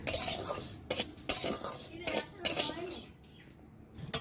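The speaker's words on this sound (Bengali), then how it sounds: "এবার হালকা জাল দেবো দিয়ে চালগুলো কিন্তু আমি ভেজে নেব" Raw rice grains dry-roasted over a low flame in a kadai and stirred with a metal spoon, giving soft scraping with several sharp clinks of metal against the pan, close and fairly quiet.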